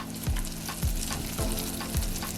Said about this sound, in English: Do not crowd your frying pan, your pot. Fry them about 3 at a time.